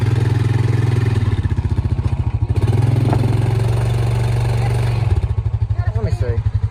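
A four-wheeler's engine runs nearby with a loud, pulsing low idle that dips briefly and then revs back up. People talk over it near the end.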